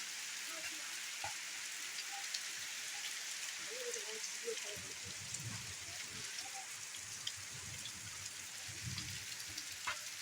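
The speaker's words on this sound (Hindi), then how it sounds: "प्रबल वर्षा" Heavy rain in Karnataka falls steadily as a dense, constant hiss, close and loud throughout, with occasional faint low murmurs beneath.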